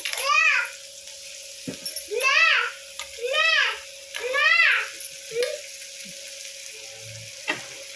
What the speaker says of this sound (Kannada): ಈ ಟೈಮಲ್ಲಿ ಸೌತೆಕಾಯಿ ಹಾಕೊಳ್ಳೋಣ.